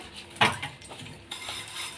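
Pots and dishes washed by hand, with a sharp metallic clank of a pot, then scraping and clinking of utensils against running-water hiss, close by.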